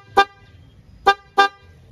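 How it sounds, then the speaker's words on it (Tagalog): The horn of a Benelli TRK 502X motorcycle sounds three short, bright beeps close up: one, a pause, then two in quicker succession, over a quiet background. "Tapos busina."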